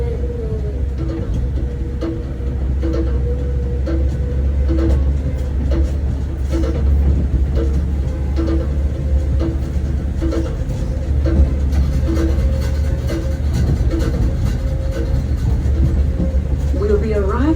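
Goombay tram ride at Lookout Cay, a steady low rumble of the moving tram with a faint periodic clatter running throughout, carrying along at a constant level.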